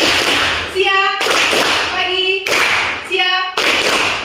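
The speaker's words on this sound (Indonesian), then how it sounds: "Kalau Ibu bilang siang, kita tepuk 2 kali ya." A class of schoolchildren clapping in unison during a classroom clapping game, claps landing in sharp broadband bursts with brief pauses, a teacher's voice and children's voices mixed in between.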